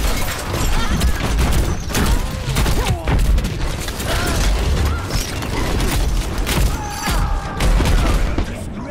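Bombs fired in the Overwatch video game, a dense, loud run of booming blasts and rapid bursts layered over continuous combat noise, with a voice briefly under the action.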